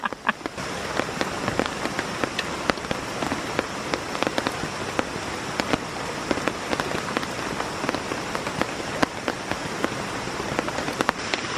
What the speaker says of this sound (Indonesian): Kebetulan masih turun hujan